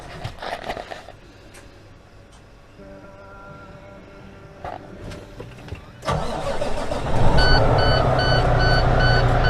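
An International LoneStar truck's engine cranks and catches, settling into a rumbling idle. A reversing-style beeping joins in near the end, and a few faint knocks come before the start.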